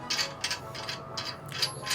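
Metal V-bar threading onto a Shrewd REX extender, giving a quick run of soft, close ratcheting clicks and light mechanical scraping in short bursts, with no voices.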